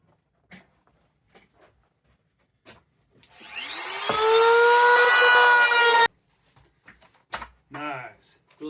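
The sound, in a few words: router rounding the bottom edge of MDF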